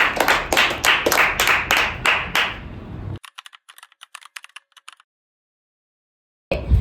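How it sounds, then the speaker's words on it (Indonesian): Group of students in a counselling practice class clapping together, a quick run of sharp, closely spaced claps, then a few scattered ones trailing off before silence and a brief burst at the very end. "kita beri aplaus sama-sama"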